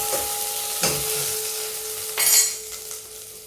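Garlic hitting a teaspoon of hot oil for a dhaba-style palak dal tadka, a close sizzle that flares up as it lands, with light utensil clinks and stirring, no talk.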